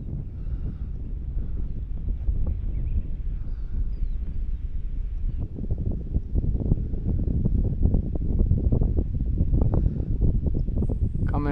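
Wind buffets the onboard microphone of a radio-controlled ASW 28 glider in flight, a steady low rushing roar that grows stronger and gustier in the second half.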